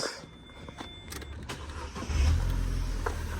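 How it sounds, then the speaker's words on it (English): A Vauxhall Corsa engine idles steadily with a low rumble that swells louder partway through, alongside a few faint clicks and mechanical taps. "And also the engine sounds good."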